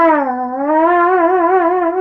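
A voice mimics a muted trombone, one sustained brassy tone that dips and then rises, gaining a gentle slide-like vibrato, loud and close with no other sound.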